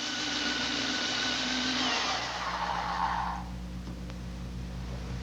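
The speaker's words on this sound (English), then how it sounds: "he tunes it by grinding it until he achieves the sound he wants." A stalactite being ground with a tool in a cave to tune it, a loud steady broadband grinding rasp running for about three seconds before cutting off, leaving a low hum and faint background noise.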